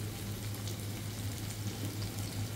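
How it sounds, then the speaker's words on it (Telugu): Chicken pieces frying in a small amount of oil, a faint, steady, soft sizzle and bubbling hiss heard close with no talk. "అలా వేగుతూ ఉందండి."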